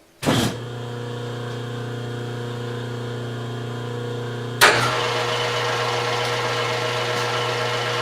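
A milling machine motor spins up to a steady whine, then a harsh, noisy metal-cutting roar joins in as a fly cutter faces the exhaust face of a Ford FE 390 cylinder head, continuing loudly and evenly.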